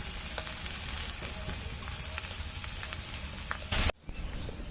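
Curry vegetables fry in a small wok in a home kitchen, a steady close sizzle with faint stirring ticks and a brief louder burst near the end.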